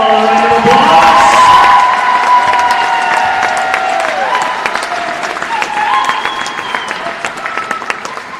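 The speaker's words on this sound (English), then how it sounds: "Let's give them all a round of applause" A crowd at a high school basketball game between Lakeview and Cascade Christian applauds and cheers loudly for honored senior players, with sustained clapping and shouts and an announcer's voice over the noise.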